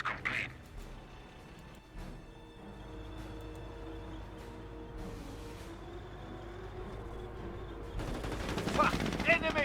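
Machine gun fire in Company of Heroes, a World War II real-time strategy game, with bursts of automatic fire over a steady battlefield rumble and a louder rattling volley near the end.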